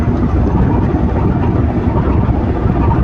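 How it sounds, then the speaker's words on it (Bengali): Two Caterpillar engines of a new luxury passenger launch on the Dhaka–Barisal route roar with a dense, steady low rumble and broadband drone, loud and close. "দর্শক শুনছেন ক্যাটারপিলের দুই ইঞ্জিনের গর্জন"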